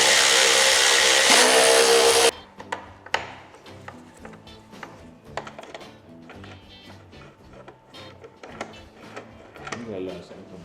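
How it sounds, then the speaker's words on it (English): A Milwaukee electric wrench whirs loudly for about two seconds while removing screws from a BMW R1300GSA motorcycle, then stops, leaving people talking over faint tool and workshop clatter. "This is my Milwaukee electric wrench."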